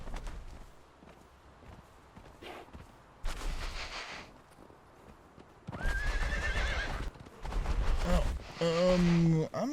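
A horse in the video game Conan Exiles clip-clops along a snowy northern trail, then lets out loud whinnies and a shrill neigh near the end, over quieter background game sounds.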